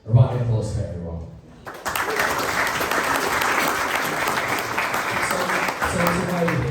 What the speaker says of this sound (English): A round of applause for everyone.